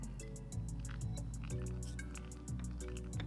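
Brewed coffee from finely ground beans drips steadily through a pour-over filter during the drawdown, a continuous close liquid trickle with soft regular drips and no talking.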